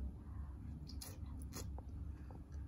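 Close, wet chewing and biting of freshly cooked food, a few soft crunchy bites over a steady low background hum, with no talking.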